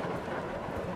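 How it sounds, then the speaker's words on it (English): Rain and thunder from a storm in a horror video game, a steady broadband wash of downpour with low rumbling swells, heard alone and fairly close throughout. "the storm is really picking up"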